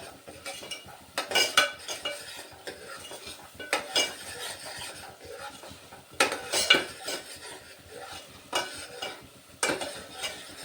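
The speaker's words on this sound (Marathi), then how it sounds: "मसाला छान भाजून घेते मी खमंग एकदम वास सुटेपर्यंत छान भाजून घ्यायचा आहे मसाला" Spice masala for crab curry dry-roasted in a pan, heard as repeated bursts of metal spoon scraping and clinking against the pan over a soft background sizzle, close and without talk.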